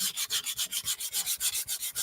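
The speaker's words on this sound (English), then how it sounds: "but I really do like the sanding component." Rhythmic sanding on painted wood, quick back-and-forth rasping strokes repeating evenly, close and fairly loud.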